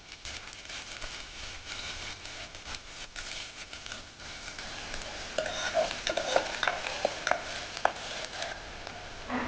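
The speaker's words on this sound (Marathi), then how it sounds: "तेलामध्ये आता मी 1 कांदा कापून घातलेला आहे. त्याला छान लालसर होईपर्यंत भाजून घेणार." Chopped onion frying in oil gives a continuous sizzle that grows busier partway through, with occasional stirring scrapes and small crackling pops.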